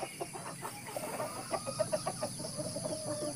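Light Sussex hens cluck and murmur in a garden coop, a close, busy run of short clucks and soft calls over a steady background hiss.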